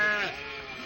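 Goats on a farm in Beni Snous make a short, nasal bleat during hand milking. The call is brief and close, fading after its start, with some background noise.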